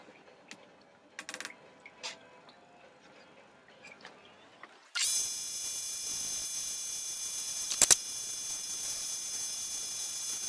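A lapidary wheel grinds an amethyst cluster dry at 1000 grit. After a few quiet seconds of scattered small clicks, a steady, hissing grinding noise begins and holds at an even level.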